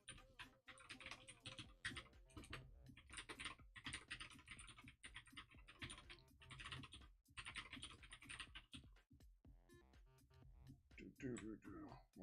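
Rapid clicking of keys on a computer keyboard runs almost continuously, close and fairly loud, with a voice talking at times over the typing.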